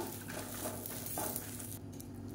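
Kashmiri chillies dry-roast in a pan for a horse gram spice powder. A faint, steady rustle of stirring and light crackling runs throughout, with no one speaking.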